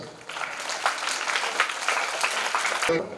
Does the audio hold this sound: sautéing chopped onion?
no